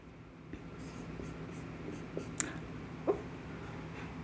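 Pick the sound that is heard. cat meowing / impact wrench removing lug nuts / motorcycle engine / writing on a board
writing on a board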